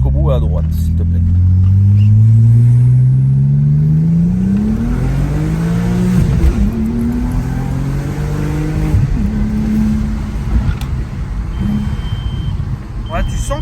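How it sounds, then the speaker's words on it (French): A car accelerating hard through the gears, engine note climbing in pitch, dropping at each shift and climbing again, loud and close from inside the cabin, with people talking over it. "tu passes les vitesses comme si ta vie en dépendait"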